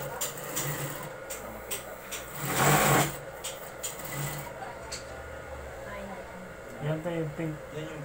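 A sewing machine stitches through fabric in short runs with a louder burst midway, set against steady background noise while people talk nearby.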